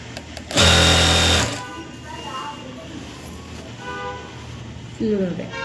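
A sewing machine stitches a skirt hem in a short loud burst, then stops while someone talks, with another brief run of stitching at the end.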